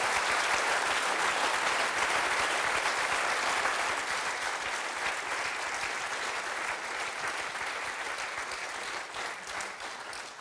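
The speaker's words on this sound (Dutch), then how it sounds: "geef ze een enorm applaus" A large audience at a Veritas Forum event in Eindhoven gives sustained, dense applause that holds steady and fades slightly toward the end, with no talking over it.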